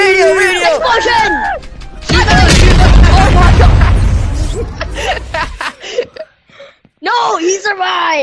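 A loud, rumbling explosion bursts in the video game DownShot and lasts several seconds, with excited voices talking before and after it.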